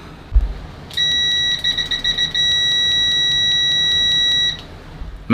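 Continuity beeper of a Mastfuyi FY17C cheap multimeter sounding loud and close: a sustained piercing electronic tone, first stuttering in short pulses, then holding steady for a couple of seconds before cutting off.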